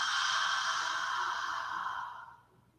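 A long, steady exhale during a yoga breathing exercise, a soft airy breath held evenly for a couple of seconds before fading out, close and alone.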